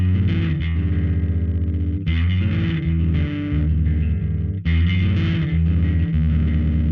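Heavily overdriven bass guitar through a Zoar distortion pedal chugs steady low notes, fuzzy and thick, with a couple of brief pauses between phrases.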